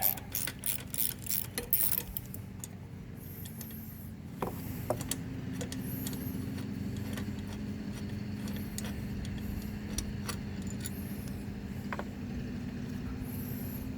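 Ratchet wrench with a 10 mm socket loosening bracket bolts on a Honda small engine, a rapid cluster of sharp metallic clicks at the start, then scattered single clicks and taps over a steady low hum.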